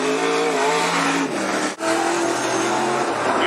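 A dirt-track race car screams past on its lap at Cottage Grove Speedway, its engine droning loud and near with a sharp pitch shift as it passes, then the roar continues.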